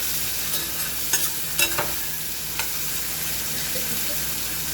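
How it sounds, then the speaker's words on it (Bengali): Onions frying in fish oil for a fish curry with potato give a dense, even close-up sizzle, with a few light stirring scrapes and ticks of a spatula in the pan. "ফার্স্টে আমি একটু মাছের তেলের মধ্যে পেঁয়াজটাকে লাল লাল করে ভেজে তুলে রাখবো।"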